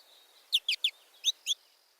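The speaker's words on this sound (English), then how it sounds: "it is the American goldfinch" Recorded calls of an American goldfinch: five short, bright chirps in an uneven run, the first three close together and the last two after a brief pause, clear over faint background hiss.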